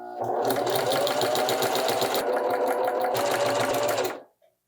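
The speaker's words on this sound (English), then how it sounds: "let's sew this one together and just keep going until that pile is done" A sewing machine stitches a quilted coat in a fast, steady rattling run of close needle strokes, loud and near, stopping abruptly near the end.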